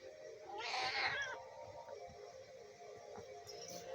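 A cat meows in the Zelda game Twilight Princess, one drawn-out, fairly loud cry in the first half, followed by quieter game background sound.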